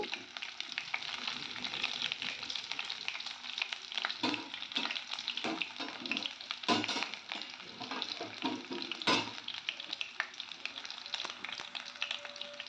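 Small onions fry in oil with a continuous close sizzle, broken by repeated clatters and scrapes of a stirring spoon against the pan.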